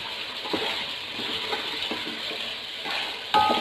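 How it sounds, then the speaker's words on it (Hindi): A spoon stirs chicken shorba with water and spices in a cooking pot, giving a steady mix of scraping and light clinks over a constant sizzling bed, close and moderately loud. "इसे अच्छी तरह मिक्स करेंगे।"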